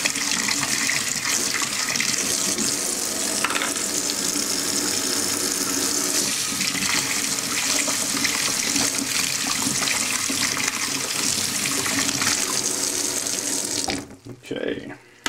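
Tap water runs hard and steady into a sink as small model parts are rinsed clean, a continuous splashing hiss that cuts off abruptly near the end, leaving brief quiet clatter.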